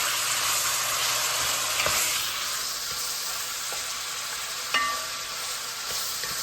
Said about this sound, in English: as our bacon starts to curl up more and it'll start to brown even more